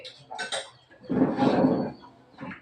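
Dishes and cutlery clink and scrape in a home kitchen as rice is served, with a few close, bright knocks and a longer rattle between them.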